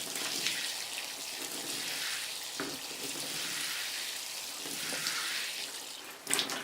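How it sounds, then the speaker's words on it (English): Water poured over freshly planted garlic cloves in soil-filled containers, a steady broadband splashing and trickling that runs unbroken for several seconds, close and moderately loud, with a brief clatter near the end. "And then I'm going to water it in."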